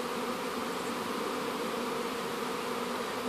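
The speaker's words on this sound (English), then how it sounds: "crawling over to the bait hive as the swarm comes flying in" A honeybee swarm flies in toward a bait hive, a dense, steady buzzing hum of countless wings that fills the air evenly from start to finish, with no voices.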